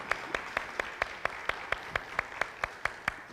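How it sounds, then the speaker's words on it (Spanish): Quiet, evenly spaced claps at a church service, a steady metronomic beat of about four per second over a low background hum. "¿Por qué no le damos un aplauso a los hermanos que están en sintonía?"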